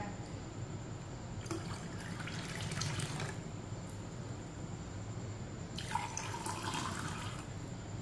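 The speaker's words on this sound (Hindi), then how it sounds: "अब इसे गिलासों में भर लेते हैं।" Tamarind juice pours into glasses in a home kitchen, two short bursts of liquid splashing and filling, quiet and close over a low steady background hum.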